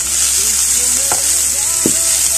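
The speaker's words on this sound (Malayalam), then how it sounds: "അത് നമുക്ക് നന്നായിട്ട് വഴറ്റി കൊടുക്കാം" Garlic, ginger, curry leaves and onion sauté in a hot pan for beef cutlets, a steady close sizzle and fry with a couple of brief scraping stirs, no voices.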